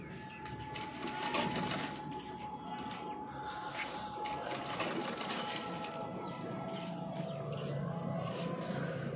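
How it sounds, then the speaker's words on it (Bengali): A sewing machine stitching a blouse, running steadily with a continuous mechanical whirr and fast needle clatter throughout, close and fairly loud. "একেবারে হাফ ইঞ্চির ওপরে আমি সেলাইটা দিয়েই যাচ্ছি, এখনো চলে যাচ্ছে আবার হাফ ইঞ্চির ওপরে সেলাই।"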